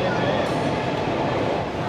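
Howrah to Digha train running between Uluberia and Bagnan, a steady loud rumble and rattle heard from inside the carriage, continuous throughout.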